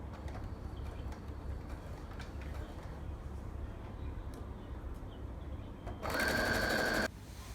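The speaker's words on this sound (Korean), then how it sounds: "마지막 스커트 트여져 있는 부분을" A sewing machine stitches the open slit of a skirt, running in one steady, loud burst of about a second near the end after a quieter stretch of background hum.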